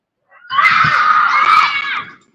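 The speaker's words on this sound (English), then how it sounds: "You're gonna hear some screaming." Children playing in a park let out one long, loud, high-pitched scream lasting over a second, close to the microphone and with no talk around it.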